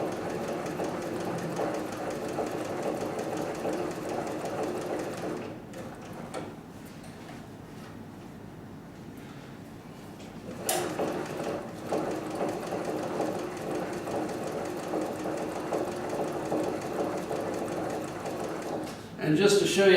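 A СВ 6900 sewing machine stitches fabric with a fast, even mechanical whirr and ticking, pausing briefly in the middle before resuming, while someone talks over it.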